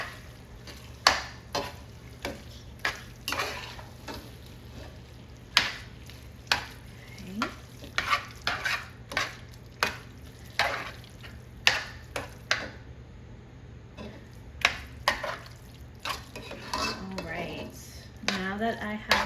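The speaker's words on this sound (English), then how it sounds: "we're gonna go ahead and mix that up real good. Grab a metal spoon for this" A metal spoon stirs thick spinach dip in a pot, producing repeated sharp scrapes and clinks at an uneven rhythm over a low steady hum, close and fairly loud.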